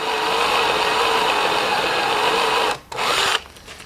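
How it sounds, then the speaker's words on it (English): A cordless drill drilling and tapping metal in a shed, a steady high whirring motor drone that cuts out briefly near the end, then restarts and stops again, with no voices. "wasn't that an ordeal to drill and tap"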